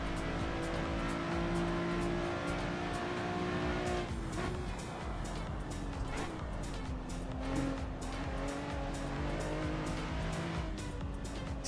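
A race car in the video game Assetto Corsa drives hard, its engine droning and shifting pitch while tires squeal and rattle across the run, loud and continuous with no talk.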